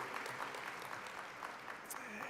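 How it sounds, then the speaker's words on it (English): A keynote audience applauds in a continuous, fairly faint patter of clapping heard from some distance, with no voices on top. "A round of applause for Daniel Zingali."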